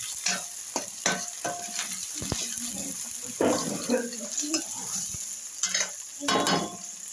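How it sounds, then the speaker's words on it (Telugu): Tomato pieces dropped into hot oil with softened onions in a home kitchen pan, sizzling and frying with bursts of stirring and scraping, plus a few water-like splashes and clatters. "ఇప్పుడు టమాటా ముక్కలు వేసేసుకుందాం"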